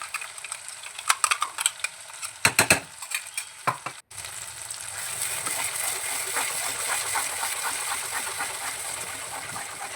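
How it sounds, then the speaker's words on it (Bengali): Onion and cashew paste going into a pan of frying chicken kofta masala, with a few sharp clinks and scrapes of a spoon, then a steady loud sizzle that continues without pause. "এবার আমি এটার মধ্যে দিয়ে দিচ্ছি যে পেস্টটা আমি রেডি করে রেখেছি, পেঁয়াজ কাজুর যে পেস্টটা"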